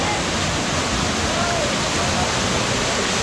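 A waterfall in El Yunque rainforest, Puerto Rico, reached after a long descent, roars as a steady, dense wash of rushing water, loud and unbroken throughout.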